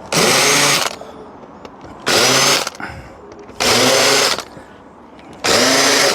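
A power drill with a countersink bit rounds off screw holes during a garden build: four loud, close whirring bursts of about a second each, separated by short pauses of quieter background.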